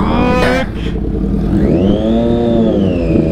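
A 2016 Triumph Daytona 675 R motorcycle engine revs loud and close, the pitch dipping and then climbing in a smooth sweep, with no talk over it.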